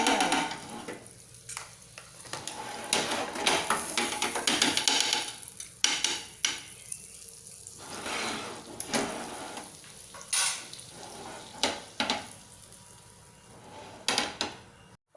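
Butter sizzles under a sandwich in a frying pan, a steady soft frying hiss broken by scraping, stirring and pan clatter, close and without speech.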